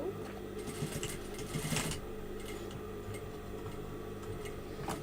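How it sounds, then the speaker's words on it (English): A sewing machine stitching down the waistband of a garment, a steady rapid mechanical ticking hum running throughout at low volume, with a brief louder clatter about two seconds in. "I want to sew like the waistband down as well"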